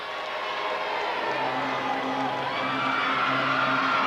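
Wrestling arena crowd at a 1987 UWF event cheering and whooping in anticipation of Terry Taylor and Gentleman Chris Adams arriving, a dense roar that swells steadily louder, with some voices through it.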